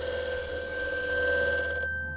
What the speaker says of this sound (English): Oh, there's another phone.